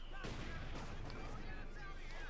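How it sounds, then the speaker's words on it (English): Mortar shell exploding in the Company of Heroes 2 strategy game, a sudden blast followed by a rumbling crackle of debris and distant battle noise, with a voice talking underneath. "Quick nasty mortar hit there."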